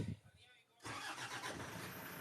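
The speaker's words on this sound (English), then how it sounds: "Let me start the car." A car engine running on alternative diesel fuel, tested in Kenya, cranks and catches after a quiet pause, then settles into a loud, steady running roar close to the microphone.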